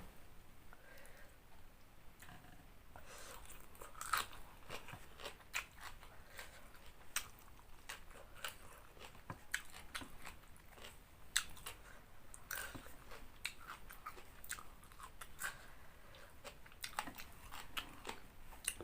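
Crunchy pork rinds eaten alongside spicy papaya salad, close-up crisp bites and steady chewing with sharp crackly clicks recurring throughout, no talking.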